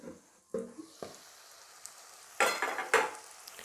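Onions fry in a pan for a fish egg fry and are stirred, with a soft sizzle and a few scraping, clattering stirs. The sound is close, brief and fairly quiet.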